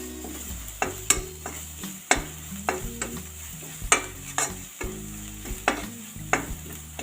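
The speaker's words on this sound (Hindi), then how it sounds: "आधा मिनट के लिए इसको भूनेंगे।" Spiced raw papaya sabzi with Kashmiri red chilli roasting in a pan, with a steady sizzle broken by repeated scraping stirs at an uneven rhythm, close and moderately loud, no voices.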